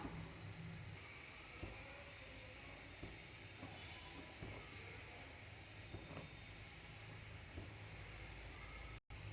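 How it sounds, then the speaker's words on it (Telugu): A steady low hiss and rumble of tea boiling in a pan, continuous and fairly quiet, with occasional faint clicks and no voices. "చూసారా టీ కృష్ణ ఎలా మరుగుతుందో బాగా మరిగితే టీకి రుచి వస్తుందండి చక్కగా మరగనిద్దాం"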